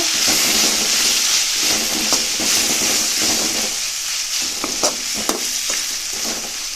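Loud, constant sizzle of tomatoes, curry leaves and coriander leaves sautéing in a hot pan for tomato chutney, punctuated by irregular clicks and scrapes of stirring, with no talking.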